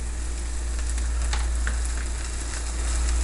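Onions frying in a pan, a loud, steady close-up sizzle with crackling pops scattered over a constant hiss and low hum, no voices.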